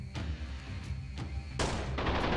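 Gunfire in the video game Freeman: Guerrilla Warfare, a few spaced single shots followed by a louder burst of rapid fire toward the end, over a low background rumble.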